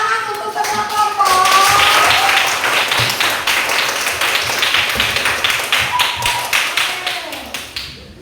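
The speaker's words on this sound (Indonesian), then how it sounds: "Tepuk tangan untuk semua kelompok." Schoolchildren in a fourth-grade class clap for all the groups, a loud, steady burst of many small hands slapping together, with children's voices and shouts rising over the applause.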